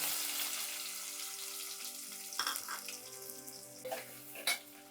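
Sliced small onions go into hot oil with fenugreek seeds and fry with a soft, steady sizzle over a low hum. A few spatula scrapes and clatters break in toward the end.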